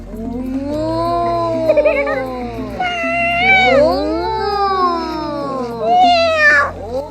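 Loud, drawn-out meows with wavering pitch, several in a row, with a steady low hum underneath; the cries sound close and may be imitated by a voice.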